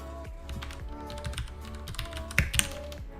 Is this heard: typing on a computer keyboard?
yes